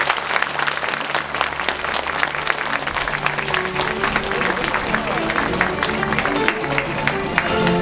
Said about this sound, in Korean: 나오실 때 여러분 힘찬 응원의 박수 부탁드리겠습니다